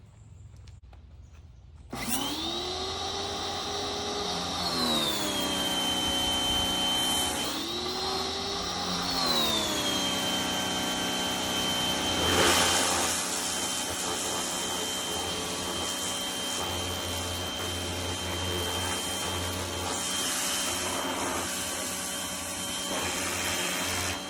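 Power pressure washer pump with a sprayer gun hooked to a hose, starting abruptly after quiet into a loud steady whine that steps up and down in pitch, then runs continuously with a hissing spray.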